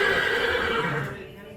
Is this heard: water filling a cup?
no